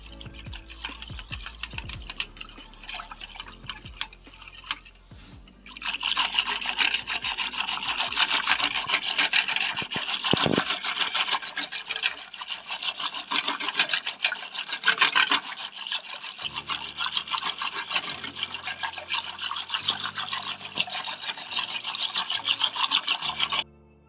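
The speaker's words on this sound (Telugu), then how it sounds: "ఇది వేసేసుకొని వెంటనే మనం లంప్స్ లేకుండా అయితే మిక్స్ చేసేసుకోవాలి." Ice cream powder is stirred briskly in a bowl to get rid of lumps, a continuous close scraping and rubbing that starts faintly and grows steadier and louder after a few seconds.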